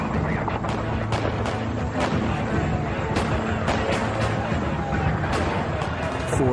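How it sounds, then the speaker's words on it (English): Rapid bursts of gunfire crack repeatedly at irregular intervals over a rumbling, noisy background with indistinct voices, as ATF agents approach the Koresh compound. "gunfire erupts"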